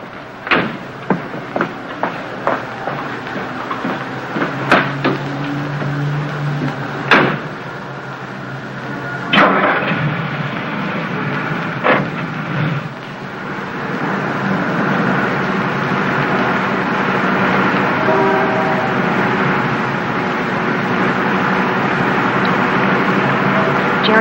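A car in an old black-and-white film starts off and drives: a few door clunks and thumps early on, then a steady engine and road rumble builds and holds loudly to the end, with no talk.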